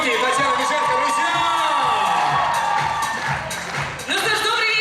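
An audience at the Miss and Mister BGU 2019 university award ceremony cheers and whoops with applause, a loud continuous roar while a voice speaks over it, dipping briefly near the end.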